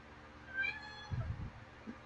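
A house cat meows at a door, one short clear meow followed by a lower, softer second call, nearby and alone in a quiet room.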